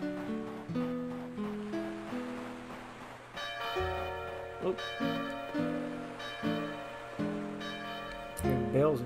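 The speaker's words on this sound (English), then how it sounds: "Hearing bells and shit." Bell tones ringing out in the video game Magician's Quest: Mysterious Times, a series of sustained, resonant strikes at an even pace over a soft musical bed, with a brief vocal sound near the end.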